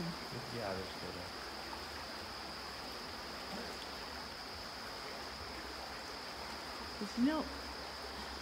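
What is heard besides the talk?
river running strongly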